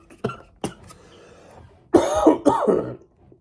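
A man watching a Miami Heat versus Golden State Warriors game coughs up close: two sharp short coughs, then two longer, harsher throat-clearing coughs, with no talking.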